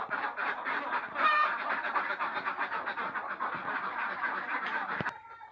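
Chickens and ducks kept together in a poultry house form a continuous, dense chorus of clucking mixed with quacks at moderate distance, ending with a single sharp knock.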